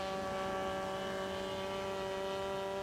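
Pointer unmanned aircraft climbing overhead at a few hundred feet, a steady propeller drone with strong sustained tonal whine and faint broadband hiss, constant level throughout with no talk.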